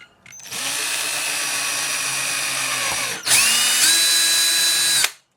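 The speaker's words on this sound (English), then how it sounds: "I'm just going to drill a hole" A power drill whines loudly into a plastic camera battery housing in two bursts, a brief pause between them, the second higher and sharper before stopping abruptly.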